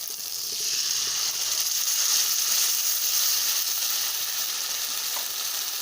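Spinach puree blended smooth hits a pan of fried spices with yogurt, bringing a steady, loud bright sizzle that swells after the first half second and holds evenly throughout, with no voices.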